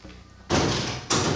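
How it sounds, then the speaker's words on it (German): A door shuts with two quick, solid thuds close by, the second following about half a second after the first. "Machen Sie die Tür hinter sich schon mal zu."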